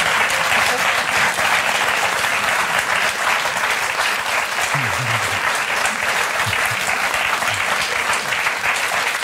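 Steady, loud studio audience applause fills the whole stretch on the set of a German TV cooking show, with a few faint voices showing briefly underneath.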